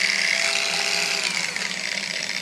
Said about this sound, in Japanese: 今爪を磨いてみましたけど、こんな感じで遅いバージョンもできるというモードになってます